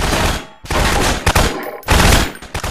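Ship guns firing in Eve Online, a dense, loud barrage of rapid blasts in continuous bursts with brief gaps between volleys.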